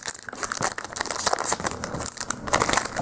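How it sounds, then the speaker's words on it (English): A Khans of Tarkir Magic booster pack wrapper is torn and crinkled open up close, a dense run of sharp foil crackles and rips lasting several seconds. "today we're going to open this Cons of Tarkir booster pack"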